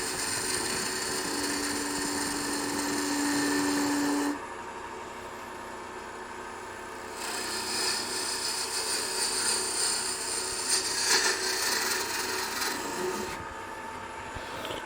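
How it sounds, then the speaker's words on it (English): A skew chisel makes a peeling cut on wood spinning on a lathe, producing a sustained rough hiss and shaving rasp over the motor's hum. The cutting noise brightens and fades in sections as the tool engages and lifts away. "let's just go ahead and do a cut with that skew chisel. And we'll just do a peeling cut here"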